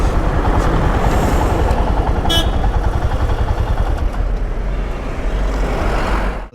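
A motorcycle engine runs loudly and close by on a hillside road near Sevoke Kali temple, a steady, rumbling drone that holds for several seconds before cutting off abruptly at the end.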